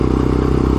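Yamaha XJ6 motorcycle fitted with a Tala Escapes exhaust, a loud close-up engine rumble with a rapid pulsing beat, steady and alone.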